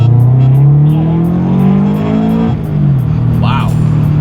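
A flex fuel car with an upgraded clutch pulls hard in second gear, its engine note rising steadily and loud, with a brief dip around a shift or lift before climbing again, under excited talk.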